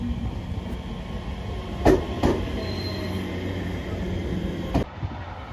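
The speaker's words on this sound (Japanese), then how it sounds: "7000系普通電車がやってきました。" A JR Shikoku 7000 series local train pulls into a station on the Yosan Line in Ehime, a steady rolling rumble with a few sharp wheel clacks and bursts of wind noise, no talk.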